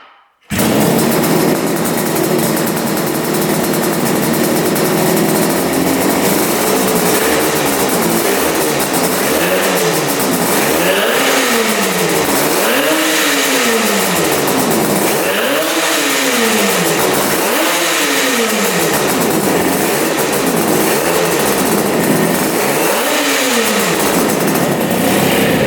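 A cold engine fires up and keeps running loud and close, idling roughly before several long rising and falling revs that repeat in waves, with no voices over it.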